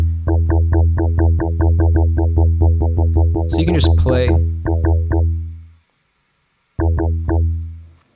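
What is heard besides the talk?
wavetable synthesizer sound in Ableton Live 11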